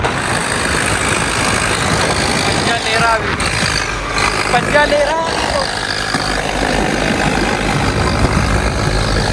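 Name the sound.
4WD tractor engine running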